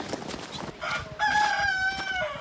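Hens cluck in the background, then a rooster crows loudly nearby in a long, drawn-out call that fills the second half.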